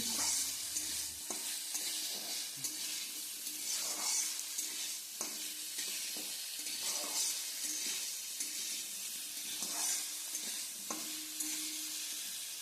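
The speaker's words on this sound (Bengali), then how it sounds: "লবণটা দিয়ে সব কিছুকে আবারও খুব ভালোভাবে নাড়াচাড়া করে মিশিয়ে নিচ্ছি" Potato and soybean curry being stirred in a frying pan after salt is added, with a steady sizzle under repeated scraping stirs, close and continuous with no talking.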